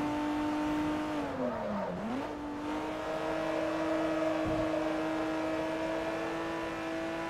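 An inline engine in a BMW M car in Forza Motorsport 3 holds a steady, droning rev, with a brief dip and recovery in pitch partway through, clear and continuous with nobody speaking.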